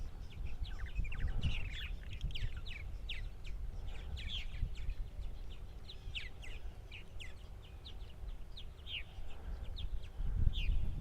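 Purple martins calling on Eastern Long Island, a scatter of short chirps and twittering notes repeating through the whole stretch, moderately distant over a low outdoor rumble.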